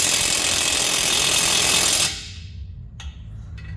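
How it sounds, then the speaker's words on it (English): A pneumatic impact gun hammers loudly on 14mm exhaust nuts on a 1997 Toyota Corolla for two seconds, then cuts off, leaving quiet garage ambience with a couple of light clicks. "these two nuts are going to be 14 millimeter, and you can just use an impact gun"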